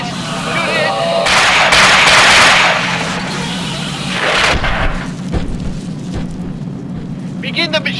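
Gunfire in a tense audio drama scene, heard as loud, dense bursts of shots that swell and fade over several seconds beneath urgent voices and shouting.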